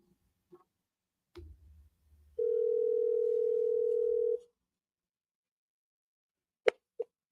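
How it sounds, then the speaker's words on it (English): A single steady telephone voicemail recording tone sounds for about two seconds, clear and alone, after a few soft clicks and handling noises, followed by brief sharp clicks at the end. "At the tone, please record."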